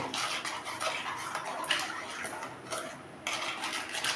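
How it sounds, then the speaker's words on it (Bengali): A spoon stirs sugar and agar agar powder in a bowl, giving a rapid run of scraping, clinking strokes against the sides with short pauses between bursts, close by and alone. "এক চামচ আগার আগার পাউডার তো এটাকে আমি ভালো করে এখন মিশিয়ে নেব"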